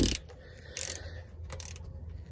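A ratchet tightens a bolt on the axle of a 2009 Crown Victoria, making short bursts of close metallic clicking separated by brief quiet pauses.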